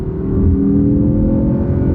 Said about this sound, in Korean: 엔진음이 거칠면서도 부드러운 그런 면모를 보여주기도 하는데 상당히 아이러니하죠.